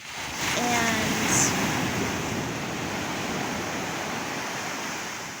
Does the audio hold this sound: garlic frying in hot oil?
no